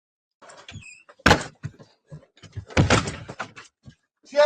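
Robbers kick in a house door from the front stoop: two heavy, loud door bangs land about a second and a half apart amid rattling impacts and scuffling, with a brief voice at the end.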